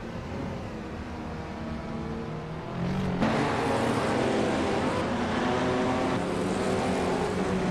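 A 1985 Peugeot 205 T16 race car engine drones steadily at a race start, then swells noticeably louder and rougher partway through as it pulls away.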